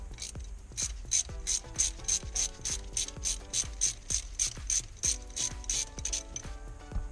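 A ratchet wrench clicks steadily on tight nuts during a speedometer gear install on an SN95 Mustang GT, about twenty close, rhythmic ratcheting strokes in a row with no voices.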